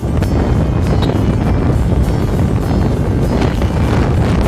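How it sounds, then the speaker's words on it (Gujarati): Strong wind buffets the microphone while travelling on the road to Antaliya, a loud, constant rumbling roar that fills the whole stretch with no voices. "તમને થોડોક અવાજ આવતો હશે પવનનો, અને થોડુંક એડજસ્ટ કરી લેજો તમારી રીતે."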